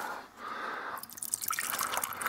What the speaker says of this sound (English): I know this ain't how you're supposed to pour beer